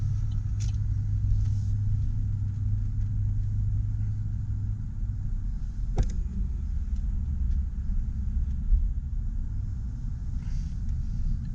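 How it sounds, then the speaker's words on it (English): Vehicles come and go at a construction equipment yard with Cat and Manitou machinery, a continuous low engine rumble with passing traffic swelling and fading, and one sharp clank partway through. "a lot of vehicles coming and going"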